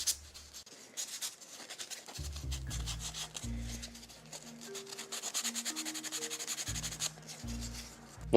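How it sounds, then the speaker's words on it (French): Light sanding and scraping of small plastic model parts for a moisture vaporator kit, soft close rasping strokes in short bursts over a low musical background. "Et on peut poncer légèrement."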